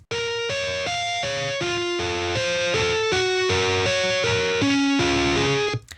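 A synth melody distorted through amp simulation and a cabinet plugin in Ableton Live: a steady run of gritty, buzzing notes in an even stepping rhythm, loud and continuous for about six seconds before cutting off, with no talk.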